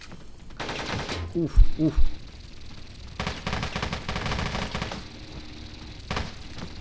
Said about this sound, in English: a guy with a Gatling gun, which I think I hear